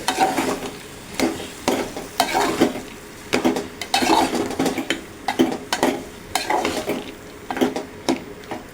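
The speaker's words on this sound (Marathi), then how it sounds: "त्याच्यात मी हा सोडलेला बिरडा टाकते वालाचा बिरडा तेलसुद्धा मी चांगलं परतून परतून घेते" Sprouted field beans (val) fry in hot oil while being stirred, with repeated scraping strokes of a utensil against the pan over a sizzling background, close and rhythmic.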